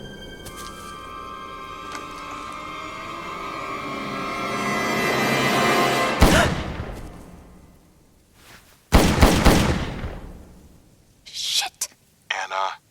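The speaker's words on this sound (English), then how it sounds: "Pick a spot 20 feet away. Fire into the ground." Gunshots fired into the ground, a few loud percussive blasts with long rumbling tails, following a building mechanical drone and preceding short clipped bursts.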